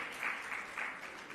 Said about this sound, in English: Give the proceedings a round of applause, please, all together